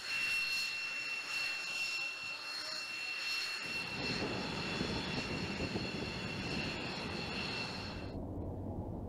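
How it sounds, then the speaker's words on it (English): An MQ-25A carrier-based unmanned aircraft gives a loud, steady jet-engine roar with a high whine, swelling into a broader rush midway and then cutting off sharply near the end. "The MQ-25A, the world's first operational, carrier-based unmanned aircraft"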